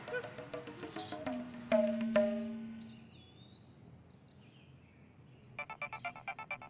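A phone ringtone plays in short repeated bursts at the end, after a stretch of clattering noise and a low sustained tone.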